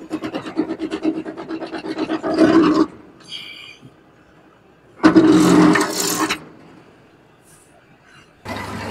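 A New Holland 488 hay mower runs with a loud, rough, rasping mechanical roar that swells in two strong bursts between quieter stretches of engine rumble, close to the listener.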